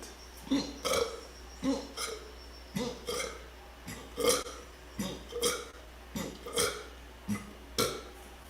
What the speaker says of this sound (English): I use the esophageal muscles to squeeze the air off the stomach so that I can then burp it out